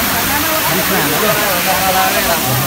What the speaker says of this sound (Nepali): झरनाहरू पनि बनाएको छ